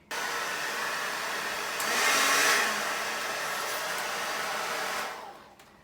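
A hair dryer blows over a wig, a loud continuous close whoosh that swells briefly midway then cuts off near the end, with no talk.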